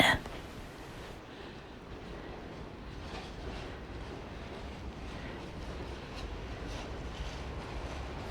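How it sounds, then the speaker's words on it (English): A snow-covered New York City N subway train rumbles along at a distance during a nor'easter, a steady low roar with faint rattling and no voices. "And then we've got this snow-covered N train."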